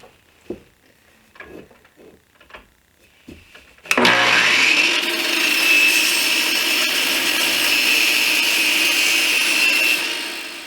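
A power saw rips through a block of wood in a shop, loud and close. A few scattered knocks and handling sounds come first, then a sustained whine of about six seconds that fades at the end.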